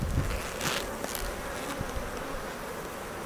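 Honeybees buzz around their hive outdoors, a dense continuous drone of many insects with individual bees passing near the microphone.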